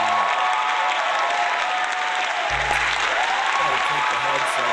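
Dense, steady applause runs the whole length as a livestream sound effect, broad and loud with a low hum entering midway; no voices come through clearly.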